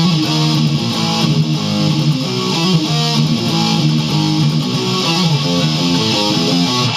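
Heavily distorted electric guitar chugs through a dark, menacing metal riff, a dense, loud wall of sustained palm-muted notes played alone and steady throughout.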